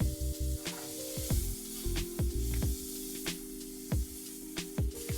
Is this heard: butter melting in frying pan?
yes